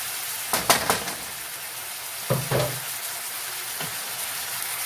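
Food browning in a pan for a taco pasta casserole gives a soft, steady sizzle with a few brief louder scrapes and clatters of stirring.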